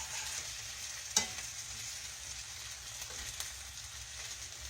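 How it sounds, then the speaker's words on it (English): Tenderloin chops fry in a pan with a steady close sizzle, and a sharp clatter marks the meat being turned over about a second in, with soft scraping and stirring noises after. "I am going to try to turn the meat over"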